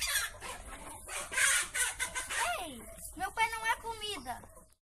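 A rooster and hens cluck in a short burst of bird calls, with several rising calls near the end, while people talk in Portuguese over them.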